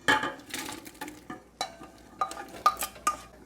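A spoon folds onions and cucumbers into a mustard pickle sauce in a pot on the stove, making irregular wet stirring scrapes and occasional metallic clinks against the pan, close and fairly quiet.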